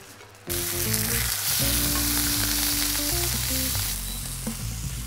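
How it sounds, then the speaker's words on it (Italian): Veal sears in a hot pan with oil, thyme and garlic. A loud, continuous close-up sizzle starts abruptly and stays dense and steady throughout, with no voices. "vado a rosolare la carne su tutti i lati"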